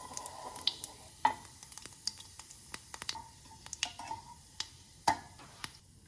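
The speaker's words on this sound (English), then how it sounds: "When it is light golden, add 1 cup of mild green chilies." Mild green chilies added to hot mustard oil with golden cumin: a soft, steady sizzle with scattered sharp pops and crackles, close up and fairly quiet, no voices.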